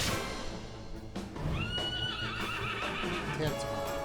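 A fire horse in Dragon Quest XI gives a drawn-out whinny after a short sound, with game background sounds around it.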